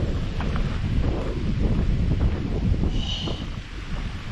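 Wind blows across a bay, buffeting the microphone with a constant loud low rumble and rushing gusts, no voices heard.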